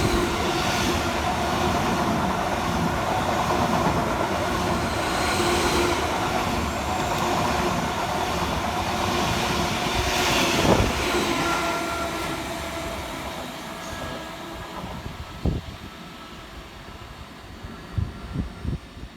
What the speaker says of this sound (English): whilst passing fast in the opposite direction for Greater Anglia is 745-102, working 1 Bravo 44 from London Liverpool Street through to Stansted Airport.